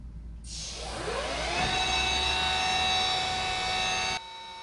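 A Langson Total Flow gas letdown generator spins up from standstill, a rising turbine whine climbing in pitch and settling into a steady loud high-pitched drone with a low rumble beneath, then cutting off abruptly.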